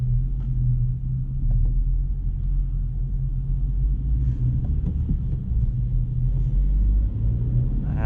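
2024 Honda Civic Sport with a manual gearbox coasts with its engine off, giving a steady low road and tire rumble heard from inside the cabin, constant throughout with no talk.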